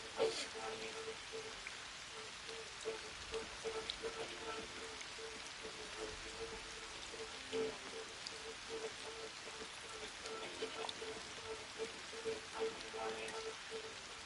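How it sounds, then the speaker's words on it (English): Steady rain patters outdoors by a pond, a soft continuous hiss with scattered close drops, fairly faint and without talk. "as you can see, an hour later, it's raining"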